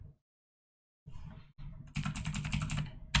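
Fingers press keys on a computer keyboard to type a password in a turn-based hacking game, close and fairly loud; brief taps start, then a quick rapid flurry of keystrokes follows after a short silence.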